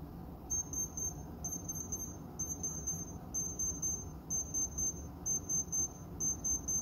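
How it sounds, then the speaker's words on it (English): Rapid high-pitched electronic beeping from a baby thermometer placed in a rum wash, signalling it is too hot, repeats in quick bursts over a low background hum, steady and insistent like an alarm. "It seems to be beeping out of control, meaning it's too hot."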